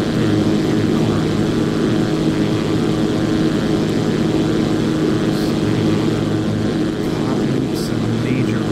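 Zlin Z-142 propeller plane in a flight simulator, climbing at 2500 RPM: a steady, loud engine and propeller drone with a dense rumble that holds constant throughout.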